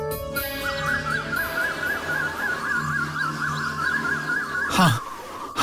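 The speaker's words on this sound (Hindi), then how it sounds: "कोयल की पुकार है।" A koel, a type of cuckoo, calls with a repeated warbling note held for several seconds in a hillside forest setting, clear and fairly close over soft background music.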